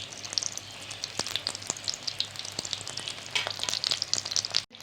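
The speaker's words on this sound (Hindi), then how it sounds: "ये देखो हमारी फ्राई होने लग गई है।" Samosas frying in hot oil, a steady close crackling sizzle with sharp pops and spatters running throughout, no voices.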